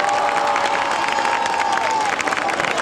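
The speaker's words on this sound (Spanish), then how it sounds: "Que se escoite arriba ese aplauso." A crowd at an outdoor orchestra show in Galicia applauds and cheers in a dense, sustained wash of clapping, with scattered shouts and a faint tone running beneath.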